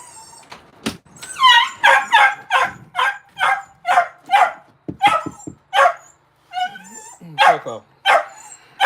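Coco the dog yelps and barks insistently, a rapid series of close, sharp high-pitched yips and whines in an indoor room, with a few short thumps between them.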